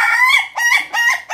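An Ayam Ketawa, the Indonesian laughing chicken, crows in a close, loud, stuttering series of three or four quick rising bursts, heard alone without talk.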